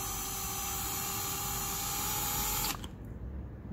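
A drill bit working through the soft welsh plug on a Yamaha V-Star 650 carburetor, a steady close whine that runs unbroken for nearly three seconds, then cuts off abruptly.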